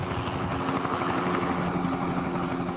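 A search helicopter flies over the area looking for a missing teen, its steady rotor and engine drone continuous and fairly close throughout with no breaks.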